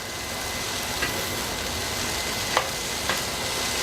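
Egg fried rice, made with oyster sauce, is stirred in a hot pan. A loud, constant sizzle runs throughout, with a few faint scrapes of the utensil and no voices.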